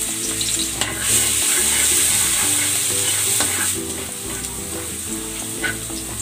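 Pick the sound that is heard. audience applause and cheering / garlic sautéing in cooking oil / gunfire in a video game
garlic sautéing in cooking oil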